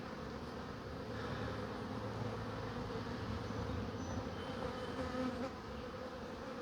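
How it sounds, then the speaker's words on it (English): Honeybees hum around an open hive during an inspection, a dense, continuous buzz of many insects held close and steady throughout. "We get a lot of bees here."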